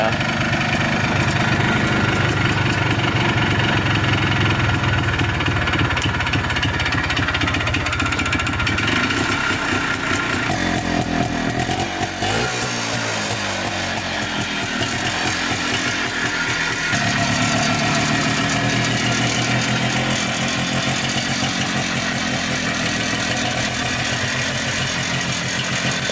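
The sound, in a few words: Kawasaki KX420 dirt bike engine running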